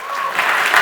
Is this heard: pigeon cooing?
no